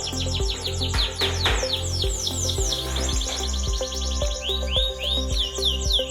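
Canaries sing in a bird keeping setting, with bright rapid trills and tweeting phrases layered over one another. They sound close and lively against a steady, rhythmic background.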